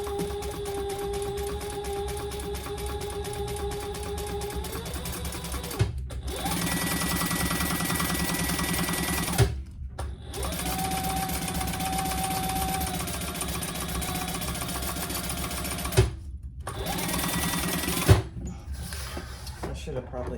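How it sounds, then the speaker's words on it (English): A sewing machine runs in steady bursts while top stitching a folded edge on a vinyl laptop bag, close and loud, stopping briefly between passes, with light voices over it. "Just 1/8 of an inch top stitch on the folded edge."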